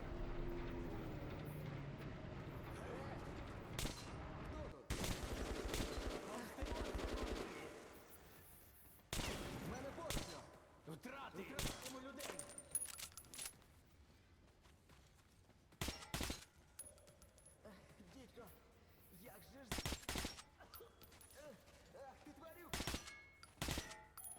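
Bursts of rapid gunfire and sharp shots from the video game Metro Last Light Redux, loud and intermittent, with heavy automatic fire early on and scattered single shots later.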